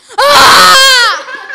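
Someone shouts even louder than before, a single long piercing yell that rises and wavers, close and very loud, trailing off into a short breathy tail.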